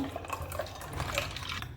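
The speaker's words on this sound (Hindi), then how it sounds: "और इसमें ठंडा पानी।" Cold water pours into a jug of sharbat with a soft, continuous splashing and light trickle, faint and close, with no talking.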